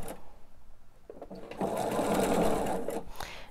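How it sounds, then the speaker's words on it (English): A sewing machine backstitches a quilt border, a close whirring run of rapid stitches rising after a brief pause and a few clicks, then easing off. "I'm going to backstitch at the beginning and at the end."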